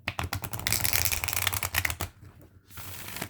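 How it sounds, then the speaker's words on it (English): Thick oracle cards being shuffled by hand, a dense run of quick papery riffles and slaps for about two seconds, a brief pause, then a softer burst of shuffling, close up with no voices. "If you want to shuffle it this way, they shuffle really nicely this way as well."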